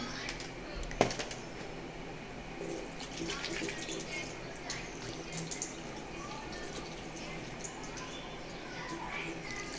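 Water splashed onto a face by hand, heard as steady close running and splashing with a few sharper drips and one brief clack near the start, no talking.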